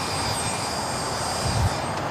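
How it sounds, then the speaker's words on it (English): ABX Air converted Boeing 767 freighter jet rolling down the runway at LAX, a steady broadband engine roar with a whining tone, heard from a distance with a brief low rumble swelling near the end. "got that ABX Air converted 767 now rolling down"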